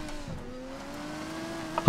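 Engine drone of a car driven in the video game Ghost Recon Wildlands, a steady hum with a sharp thump near the end.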